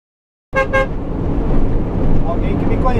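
Two quick, loud car horn honks ring out close by on a highway, followed by steady road and traffic noise with a few fainter tones.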